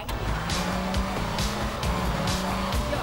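A car engine revs and shifts gears in Grand Theft Auto III, an Infernus driven to park, tires squealing now and then, loud and steady throughout.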